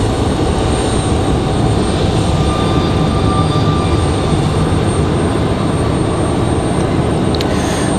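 A loud, continuous jet engine roar with steady broadband whine comes from an Aeromexico E190 airliner on the ground at Raleigh-Durham airport, holding level throughout with a faint tonal whine on top.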